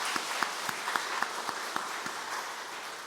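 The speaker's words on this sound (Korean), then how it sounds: "격려의 박수 한번 더 합니다." A church congregation at a dawn prayer meeting applauds in a sustained, even patter of many hands, with a few sharper claps standing out, at a moderate distance.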